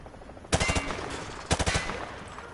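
Two bursts of rapid automatic gunfire from a machine gun aimed at shooting range targets in Modern Warfare 2, each a loud clattering volley of closely spaced shots, about a second apart.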